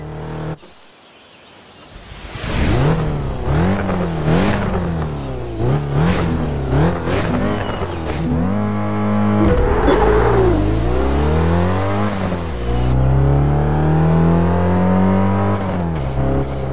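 Car engine in the 2011 racing game Test Drive Unlimited 2, driven through a bend in a classic licence test, revving up and down loudly and steadily through repeated gear changes, alone with no talk.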